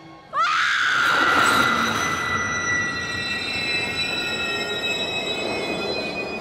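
A New York subway train screeches along the rails, a sharp metallic squeal of wheels rising over a loud rolling rumble that settles into a steady roar of cars passing close by.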